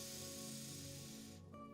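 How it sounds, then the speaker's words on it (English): A deep, purifying yoga breath is drawn in through the nose as a soft, steady airy hiss. It is quiet, sits over faint sustained background tones, and cuts off near the end. "inhaling so deep in through your nose that you feel the air go up your"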